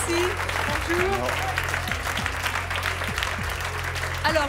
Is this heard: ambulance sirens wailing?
no